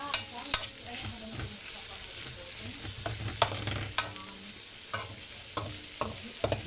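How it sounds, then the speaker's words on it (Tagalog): Onions sizzle in a frying pan on a home kitchen stove while a utensil stirs them, a steady sizzle broken by sharp, irregular scraping clicks, with no talking. "pagka naluto na yung sibuyas"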